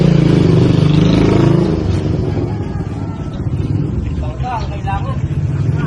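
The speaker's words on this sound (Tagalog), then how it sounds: "Ayan, ayan yung motor niya." A motorcycle engine runs close by with a steady rumble through a flooded street, mixed with splashing and clatter while people talk over it.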